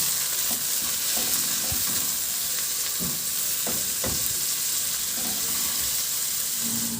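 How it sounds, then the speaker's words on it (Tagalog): Onion and tomato sauté in a hot frying pan, giving a continuous dense sizzle with intermittent scraping stir strokes close by. "Maglagay na rin ako ng sibuyas. Ilagay ko na rin yung kamatis."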